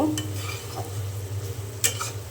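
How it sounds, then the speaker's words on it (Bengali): Bottle gourd stir-fried with prawns and small potatoes in a pan, giving a steady low sizzle with light stirring scrapes and one sharper clink of the utensil. "লাউ দিয়ে আবারও খুব ভালো করে আমি কষিয়ে নেব"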